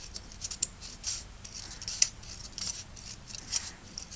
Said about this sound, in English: And then I cut right on the line.